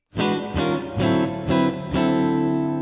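An electric guitar through a Line 6 Pod Express strums a run of distorted chords, each followed by a smooth, dense plate reverb that keeps them ringing together.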